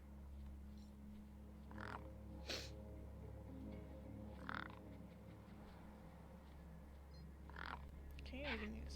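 Crows cawing in the game Beyond a Steel Sky, several harsh calls spaced a few seconds apart over a constant low hum, fairly faint.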